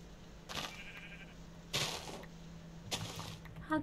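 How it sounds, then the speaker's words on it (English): Sheep in Minecraft give three bleats, each a short bright burst, spaced about a second apart, moderately loud over a low steady hum. "How dare you, sheep?"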